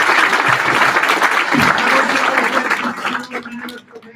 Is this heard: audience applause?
yes